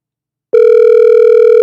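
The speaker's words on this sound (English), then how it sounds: "Got a phone call?" A telephone tone starts abruptly after a short silence and holds steady and loud, a continuous electronic ring-like pitch with no voices around it.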